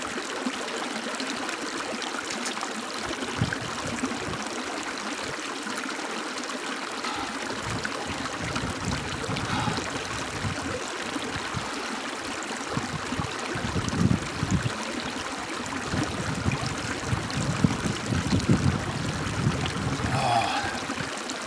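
Mountain spring water trickling and flowing steadily on a trail toward a peak, a soft continuous babble close by with occasional louder splashes, no talk.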